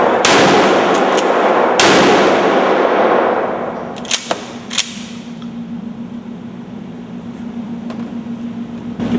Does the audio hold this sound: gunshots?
yes